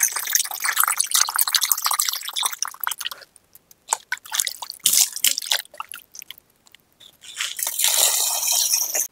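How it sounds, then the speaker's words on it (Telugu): Goat head meat being rinsed in water, with dripping, splashing and squishing of wet meat in sporadic bursts, a brief quieter pause midway, then a steadier run of water near the end. "ఈ తలకాయ మాంసం ఒకసారి కడుక్కుంటే సరిపోతుందండి"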